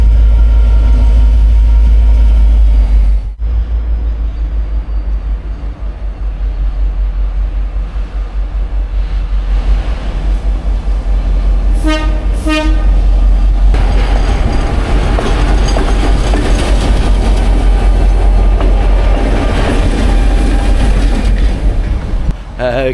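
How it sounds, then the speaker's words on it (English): A V/Line locomotive running around its train rumbles steadily close by with heavy low-end drive, rhythmic clicking of wheels over rail joints and a brief high squeal midway. "While they're running the Loco around the train"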